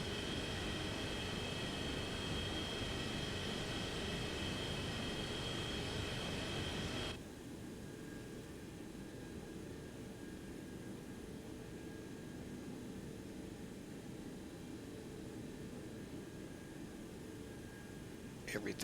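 Boeing 727-200 jet engine in an X-Plane 11 Pan Am flight simulation, a steady broadband roar with a whining tone that drops abruptly to a quieter hum partway through, continuous and moderately loud.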